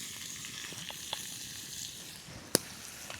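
Food sizzles and fries steadily in a camp pan outdoors as it is flipped with a spoon, with a sharp clatter near the end and a few faint clicks against the constant hiss.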